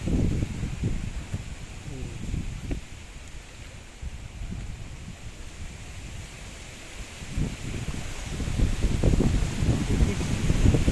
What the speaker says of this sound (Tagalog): grabe ang habagat ang lakas